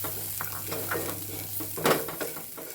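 Fried chicken being stirred into a masala in a pan, with steady sizzling and soft scraping of the spoon, plus one louder clatter near the end, close up with no talk.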